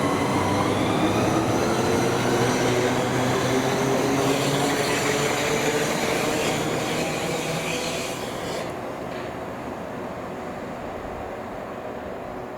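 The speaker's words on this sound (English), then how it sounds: "So here's the train leaving from Margate, calling at Ramsgate," Passenger train pulling away from a station between Margate, Ramsgate and Broadstairs, a loud steady rumble of wheels and carriages with faint squeal, fading gradually as it departs.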